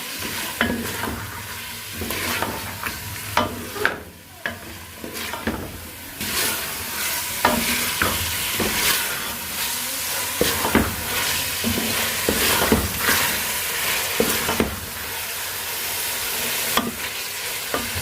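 Meat, chicken or mutton, sizzles in a pan in spice masala while a spoon stirs and scrapes in frequent irregular strokes over a steady close frying hiss.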